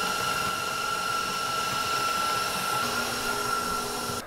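An electric mixer beating eggs into cake batter for a strawberry cornmeal layer cake, a steady loud motor whine with a constant pitched hum running unbroken throughout, no voices.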